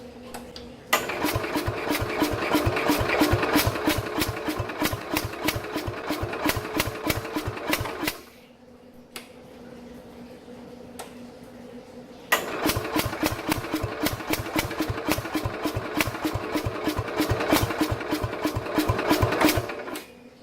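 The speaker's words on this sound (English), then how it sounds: "It's just like enough to basically help the starter along a little bit, turning the engine over, but it's not enough that it can run on its own." A 1969 Bolens 850 with a Wisconsin S8D engine cranks on its starter with rapid, even firing pulses, catching only feebly; two long cranking bursts are split by a short lull with a faint stray knock.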